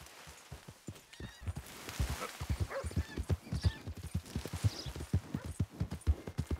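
Horse hooves clip-clop in Red Dead Redemption 2, a steady rhythmic walking gait of sharp close hoof strikes that continues throughout with faint background ambience.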